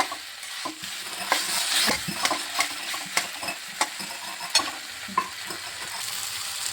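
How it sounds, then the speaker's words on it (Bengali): Grated papaya and tomato with a little milk sizzle in a pan while a spatula scrapes and stirs in regular sharp strokes, close and clear with no talking. "দেখুন পেঁপেটা সুন্দর ভাজা ভাজা হয়ে গেছে টমেটো দিয়ে দিয়েছি"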